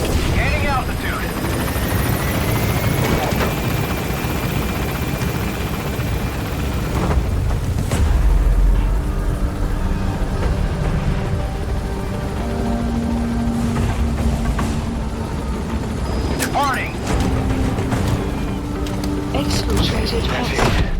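The Pequod helicopter in Metal Gear Solid 5 is gaining altitude, and its rotor and engine roar fills the scene loudly and continuously, with a low boom partway through and radio voices speaking over it.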